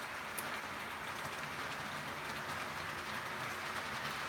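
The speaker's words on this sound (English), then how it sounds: "It's kind of a noisy train when it goes by." A model train runs along a home layout, giving a steady, fairly quiet rolling rumble and clatter with a hiss on top that stays even throughout, with no voices over it.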